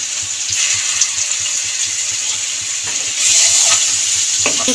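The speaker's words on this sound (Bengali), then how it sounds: "রসুন আর পেঁয়াজটাকে ফের ভাজতে থাকবো" Garlic and onion fry in a pan for a broccoli and potato dish. A continuous close sizzle runs under scattered stirring scrapes and gets louder and brighter near the end, with no talking.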